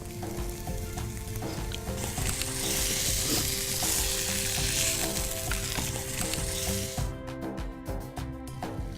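Spinach and chicken sizzle steadily in a hot pan for a sesame green chicken, with scraping stir strokes throughout and a burst of sharp clatter near the end.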